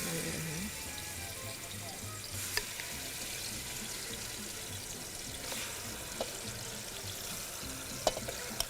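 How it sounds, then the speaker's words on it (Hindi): Chicken pieces fry in a pan for chicken korma, giving a steady sizzle with occasional stirring and clinks, while a television plays in the background. "अब ये चिकन मैं डाल रही हूँ पकाने के लिए"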